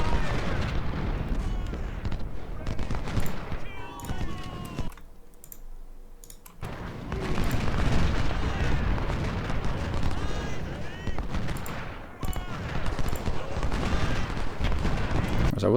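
Cannons firing in Ultimate General: Civil War, a heavy, continuous barrage of booms and crackling gunfire, loud and close, briefly dropping away before resuming at full intensity.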